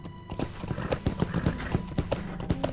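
Horse hooves clip-clop at a steady trot in the Lord of the Rings Online game, riding through a forest and down into a valley; the beats are close, regular and distinct, with a faint neigh mixed in and no speech.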